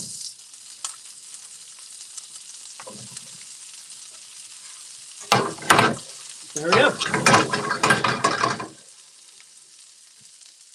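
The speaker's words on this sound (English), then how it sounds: "I'm going to add a little bit more oil, olive oil, and we can go ahead and get our cauliflower going." Cauliflower hits hot olive oil in a pan and sizzles, a loud frying burst in the middle with stirring clatter, after quieter background hiss and a short spoken remark.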